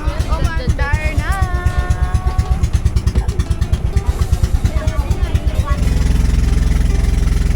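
A motor vehicle engine on a rural road trip starts and runs with a loud, rapid, pulsing chug. It settles into a steady, heavier idle near the end while a person talks close by.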